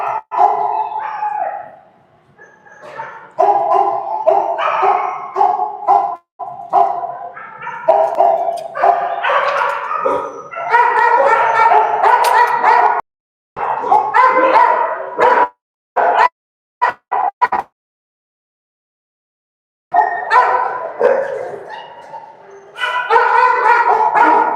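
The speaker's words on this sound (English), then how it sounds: "I don't know who it is that is howling" Dogs howl and bark at a home in long, loud, close bursts of wavering howls broken by sharp barks and yips, with brief pauses between.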